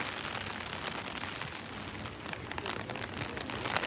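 Steady typhoon rain falls and patters on surfaces in an emptied Tokyo stadium during the Olympic closing ceremony, a constant hiss of drops with no voices.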